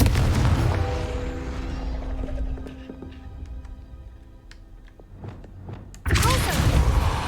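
A Confringo fire blast spell in Hogwarts Legacy erupts with a heavy boom, followed by scattered thuds and crackles as the rumble fades, then another loud blast near the end.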